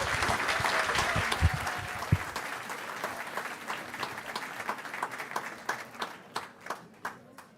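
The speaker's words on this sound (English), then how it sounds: "One more round of applause for Diego." An audience at a media innovation conference applauds a presenter named Diego with a full burst of clapping that thins out over several seconds into a few scattered, louder individual claps near the end.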